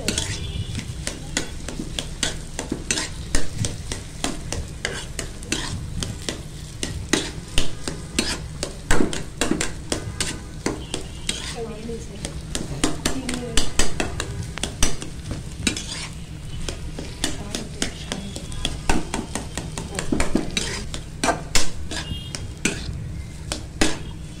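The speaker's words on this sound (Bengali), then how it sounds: "ডিমটাকে ভালো করে নেড়ে চেড়ে যতটুকু পারা যায় ছোটো ছোটো পিসেস করে নেব বা স্ম্যাশ করে নেওয়ার চেষ্টা করব" A spoon stirs and mashes boiled egg into a sizzling potato and egg bharta in a pan, making dense, rapid scraping and tapping strokes over a continuous frying hiss, close and steady for the whole stretch with no talking.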